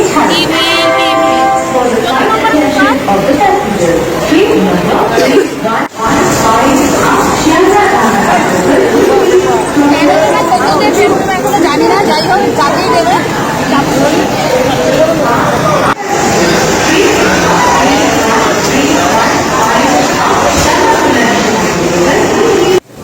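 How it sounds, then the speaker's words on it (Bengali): Morning crowds at the busy Sealdah railway station fill the air with dense chatter and shuffling, a constant loud babble of many voices with someone talking close by throughout. "শিয়ালদা স্টেশনে এখন কত ভিড় দেখো এত সকাল সকাল প্রচুর লোকজন প্রচুর ভিড়"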